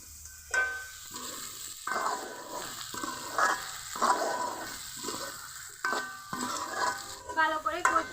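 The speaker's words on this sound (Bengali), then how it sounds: "এখন বাকি মশলা দিয়ে দিব হলুদের গুঁড়া, দিয়ে দিব মরিচের গুঁড়া, মশলার গুঁড়া, কিছুক্ষণ কষিয়ে নিব।" Crab being stir-fried in a pan with turmeric, chili and mixed spice powders for a crab curry, with repeated bursts of spoon scraping and stirring over a steady close sizzle and no talk.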